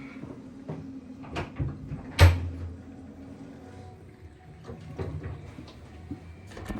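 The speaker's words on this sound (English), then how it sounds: "this is how you open the door" A fancy washroom door in Dubai opens with a sharp knock-like clunk, then quieter clicks and faint rustling follow in a hushed room.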